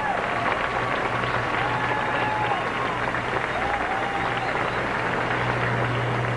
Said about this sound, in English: give him a big round of applause for this great doubles final